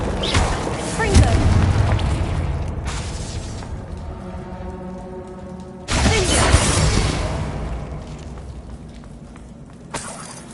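Fiery Confringo spell blasts in the video game Hogwarts Legacy, two loud booming bursts a few seconds apart, each with a crackling, shattering tail that fades out, with scattered game effects between them.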